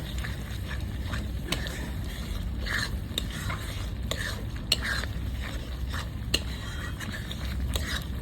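Chicken stirred and fried in a pan: continuous sizzling with repeated sharp scrapes and taps of a spoon against the metal pan at an uneven rhythm, close and moderately loud.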